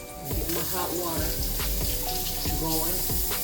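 Hot water running from a tap into a cup in a home kitchen while smothered steak gravy cooks, a steady splashing stream over sizzling and clinking pan noises.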